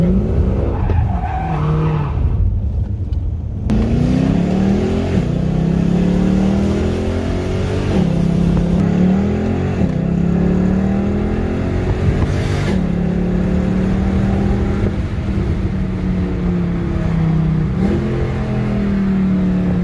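A Mercedes E63 AMG engine revs loudly and close by, climbing and dropping in repeated sweeps for about twenty seconds with a harsh, rasping exhaust tone and no speech.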